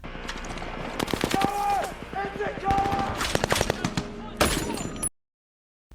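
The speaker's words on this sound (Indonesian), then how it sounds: "Disusul dengan rentetan tembakan dari anggota lain" Rapid bursts of automatic gunfire crackle loudly and repeatedly, with overlapping shots and a brief louder volley near the end before cutting to silence.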